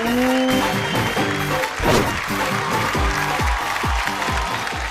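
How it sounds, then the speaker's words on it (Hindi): Studio audience at a Hindi family game show applauds steadily and loudly throughout, a dense clapping wash under sustained musical tones and rhythmic stings. "जोरदार ताली आपके लिए।"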